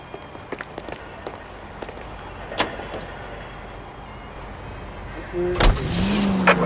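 A car in LA Noire sets off with scattered clicks and door thumps, then a sharp thud and a rising engine drone near the end, close and steady, alongside brief voices.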